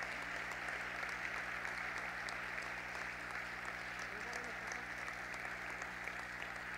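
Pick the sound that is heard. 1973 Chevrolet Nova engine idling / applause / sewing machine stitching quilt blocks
applause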